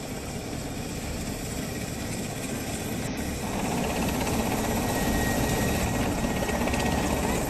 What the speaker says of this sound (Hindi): नेपाल सरकार ने 6 हेलीकॉप्टर रेस्क्यू ऑपरेशन में लगाए हैं, जो बाढ़ प्रभावित इलाकों में फंसे लोगों की जान बचा रहे हैं।